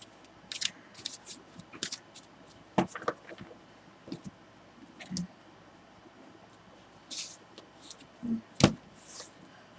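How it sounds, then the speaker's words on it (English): Scattered soft riffling and snapping of tarot cards being shuffled, quick irregular bursts with brief pauses, close and fairly quiet. "Let me shuffle these up again."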